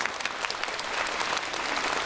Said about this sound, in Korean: 한번 박수 칩시다